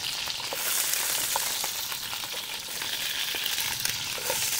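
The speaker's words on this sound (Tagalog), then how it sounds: "it's already been partially fried" Partially fried chicken sizzles in a pan, a steady hissing fry broken by small pops and crackles, close and constant with no talking.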